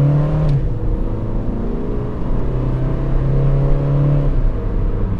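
A Honda Civic EK hatchback engine drones steadily and close up from inside the car, pulling through a long acceleration with a rising harmonic hum that steps down briefly near the end, with no talk over it.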